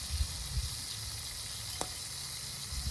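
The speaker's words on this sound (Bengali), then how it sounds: "আদা রসুন পেঁয়াজ পাকা লঙ্কা বাটা" A paste of ginger, garlic, onion and ripe chilli hits hot spiced oil in a pan and sizzles continuously at close range, with one sharp click partway through and no speech.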